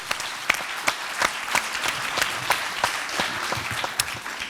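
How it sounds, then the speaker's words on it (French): Applause rises for nursing home residents at a private nonprofit care home, shown during a care-sector congress: a moderately sized crowd claps steadily with sharp individual claps popping out over a continuous patter, no talk. "Je vous propose qu'on applaudisse les résidents de cet EHPAD privé associatif."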